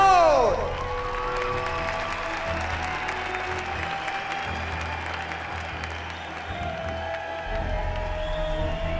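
An audience applauds and cheers a race winner, with loud, dense clapping and crowd noise that holds steady for the whole stretch, close and continuous, with a brief tonal sweep at the start.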